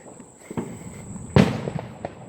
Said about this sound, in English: admire those explosions, because goddamn, they sound so nice